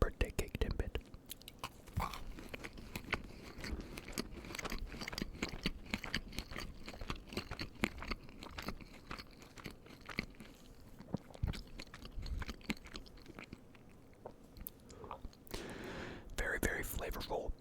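Close, crunchy chewing of a birthday cake Timbit with colorful sprinkles, with steady moist bites and crunches continuing throughout, interspersed with soft whispering.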